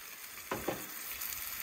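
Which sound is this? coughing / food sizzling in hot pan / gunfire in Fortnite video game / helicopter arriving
food sizzling in hot pan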